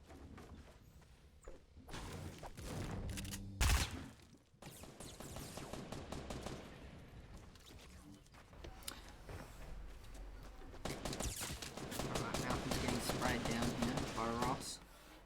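Video game gunfire with bursts of rapid shots and thuds, including a heavy hit near four seconds, loud throughout and mixed with a voice talking over it.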